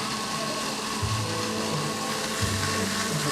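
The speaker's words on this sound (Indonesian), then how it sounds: "Nah, kita langsung blender saja semua bumbu yang tadi kita siapkan." A kitchen blender grinds a spice paste with a little water added, giving a steady, loud whirring drone that runs the whole time with slight surges in pitch.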